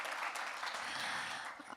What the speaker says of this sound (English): Please give a warm applause to our first contestant.